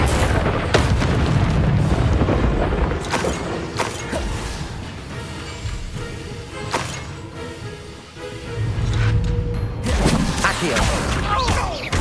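A fire spell cast in the Hogwarts Legacy video game, heard as loud booming, crashing bursts with rumbling impacts repeating through a dense, busy game mix.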